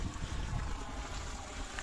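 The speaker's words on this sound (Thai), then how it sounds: "บ่อนี้ มีน้ำไหลออกมาแรงนะครับ" Groundwater gushes strongly from a well on a rice farm, making a continuous, loud, broadband rushing roar that fills the whole moment without a break.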